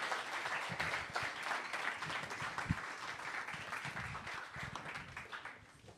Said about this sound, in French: On a une belle main d'applaudissements.